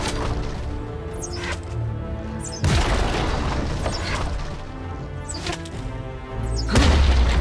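An enemy turret in League of Legends: Wild Rift takes hits, producing repeated heavy booming impacts with sharp thuds and crashes in irregular bursts over game music.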